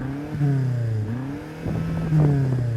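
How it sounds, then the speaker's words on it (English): A BMW X6M engine revs up and bumps against a soft rev limiter, its steady droning note climbing, dipping, then pulsing again at the cutoff, loud and close with no talking. "So I'm going to rev this thing up"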